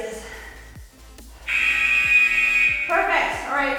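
A workout interval timer sounds a loud, steady electronic buzz during a strength and conditioning session, holding for a couple of seconds before a voice speaks over it.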